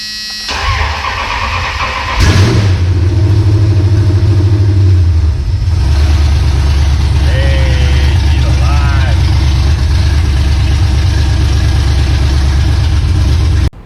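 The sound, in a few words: Gen III Hemi engine with Holley Terminator X EFI idling after first start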